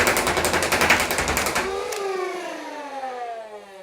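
A modded Nerf Hyperfire blaster with rewired motors, mosfets and Li-Ion cells fires darts in a rapid rattling burst for about two seconds, then its flywheel motors whine down in falling pitch.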